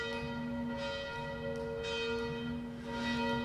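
Two church bells of a Romanesque church in Artigues ring steadily with different tones, their sustained metallic tones layered and humming, with faint background noise and no voices.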